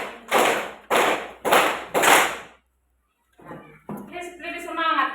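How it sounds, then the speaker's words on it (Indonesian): A classroom of students claps together in four loud, evenly spaced bursts of group applause, then goes quiet before a teacher speaks. "Sekarang kita tepuk tangan 5 untuk diri sendiri."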